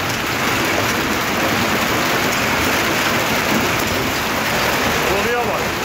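Walnut-sized hail pelts fruit and vegetable orchards in Malatya, a dense, steady roar of hard impacts close by, with a voice heard faintly beneath the din.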